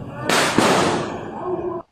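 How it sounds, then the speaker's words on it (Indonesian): During fast tarawih prayers at an Islamic boarding school in Blitar, firecrackers go off with a loud, sharp bang, then a short burst of crackling that cuts off abruptly. "Suara petasannya kenceng banget ya."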